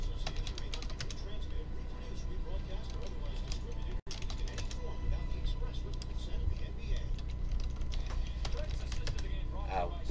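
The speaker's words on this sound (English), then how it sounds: "I'm just typing you guys in" Keys on a computer keyboard clatter in a steady, busy run of light ticks throughout, close by, with a voice talking over them and a brief dropout midway.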